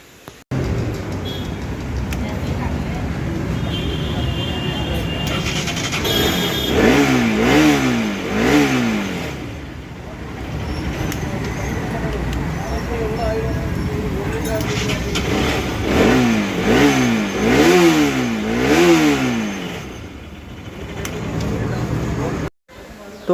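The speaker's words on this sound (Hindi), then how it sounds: "आपने देखा अब हमारी गाड़ी सेल्फ से स्टार्ट होने लगी है" A Bajaj Pulsar RS 200 motorcycle, just fitted with a new starter relay, fires up on its self-starter and settles into a loud idle, then revs hard in two separate bursts before cutting off abruptly.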